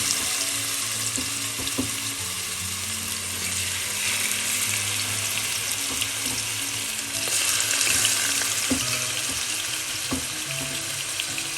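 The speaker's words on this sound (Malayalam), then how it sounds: "വെളിച്ചെണ്ണ ചൂടാകുമ്പോൾ നമുക്ക് ചിക്കൻ്റെ പീസ് ഓരോന്നായി പൊക്കിയിടാം" Chicken pieces frying in hot coconut oil, a dense, steady crackling sizzle close up, with occasional sharp clinks and scrapes of a utensil against the pan.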